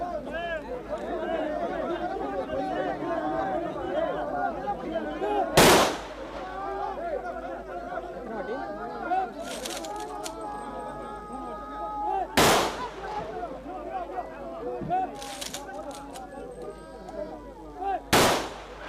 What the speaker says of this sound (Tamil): தற்பொழுது 3 முறை துப்பாக்கி குண்டுகள் வானத்தை நோக்கி சுடப்பட்டது.